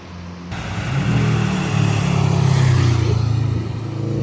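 Audi TT driving on the wet Nürburgring Nordschleife in winter, its engine note rising as it accelerates close by, a loud swelling roar lasting a few seconds and then easing off slightly, with no talk.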